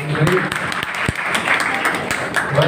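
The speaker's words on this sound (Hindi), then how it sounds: "आप लोग जोरदार तालियों से इनका एक बार स्वागत करें।" An audience claps to welcome a guest onto the stage at an institute studio inauguration, scattered applause filling the space while someone talks over it.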